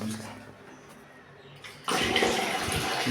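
A faint background hum, then a tap turns on and water gushes steadily, filling a container close by.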